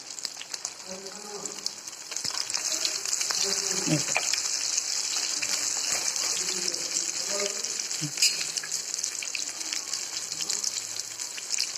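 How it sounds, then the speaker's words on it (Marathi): Sabudana vadas made from leftover sabudana khichdi deep-frying in hot oil, a steady crackling sizzle that holds throughout, with someone talking over it. "चांगले तळू देते खरं ह्याला पाच दहा मिनिट हलवायचं नाही"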